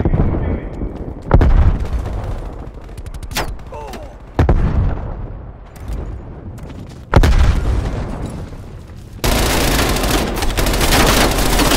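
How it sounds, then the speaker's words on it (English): Explosions and gunfire in Call of Duty: Black Ops Cold War multiplayer, with several loud booms and shots spaced over the clip and a dense roar of sustained battle noise at the end. "Grenade out."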